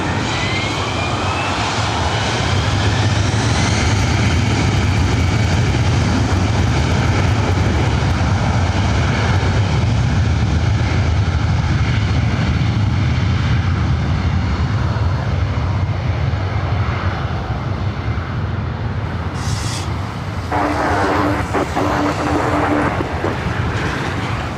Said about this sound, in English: cleared for takeoff on 24 right